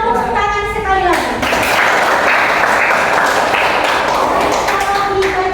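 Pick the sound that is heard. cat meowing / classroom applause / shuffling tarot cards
classroom applause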